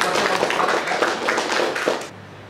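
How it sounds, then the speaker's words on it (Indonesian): Students in a classroom applaud a classmate named Rizky, a burst of close, scattered hand clapping that fades out after a couple of seconds. "Tepuk tangan untuk Rizky."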